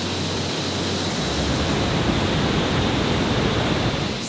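Loud waterfall in Baños, Ecuador, a steady, close, roaring wash of falling water that fills the whole stretch without pause, with no voices over it.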